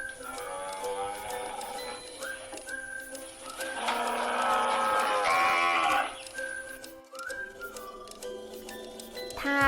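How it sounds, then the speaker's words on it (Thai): Cow moos repeat through a children's classroom animal-sound song, several drawn-out calls over busy music with singing voices, one louder stretch in the middle. "วัวเดินมาทำหน้าเป็นวัวมีเขาข้างหัวร้องมอมอมอ"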